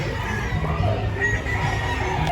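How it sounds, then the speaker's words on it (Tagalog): Chickens and roosters cluck and crow amid a busy crowd at the Grotto pet market in San Jose del Monte, Bulacan, a dense, noisy outdoor din of fowl calls mixed with murmuring people. "Puro manok yan. Puro manok dito."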